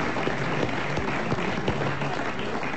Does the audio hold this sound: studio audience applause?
yes